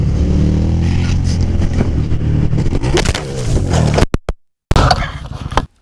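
A motorcycle crashes, its engine roaring loudly before the kickstand and engine skid plate grind and scrape harshly along the road surface, followed by an abrupt cutout and a final burst of noise.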